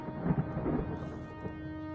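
Rolling thunder in the Cthulhu adventure game Gibbous, a deep sustained rumble with rain over a steady background hum of game music, close and full, no speech.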